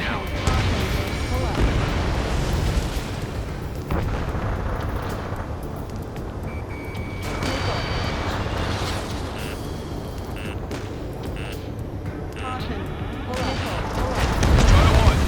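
Dense explosions and gunfire fill an aerial combat mission in Ace Combat 7: Skies Unknown, a constant heavy rumble with scattered blasts and voices talking over it throughout.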